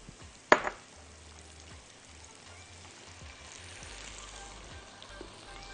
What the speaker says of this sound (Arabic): وعلى طول مع الزيت هنزل الخضار، البصل الاخضر